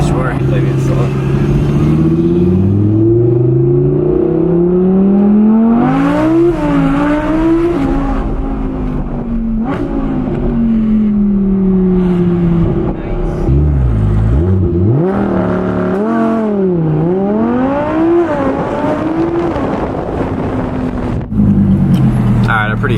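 An Audi R8 V10 Plus with a newly installed Fabspeed aftermarket exhaust revs repeatedly, loud, close engine pitch rising and falling in several sharp blips and longer pulls.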